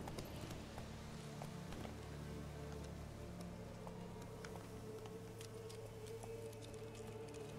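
Steady clip-clopping hooves of a horse moving at a walk in The Witcher 3: Wild Hunt, with a low continuous background hum and faint rustling throughout.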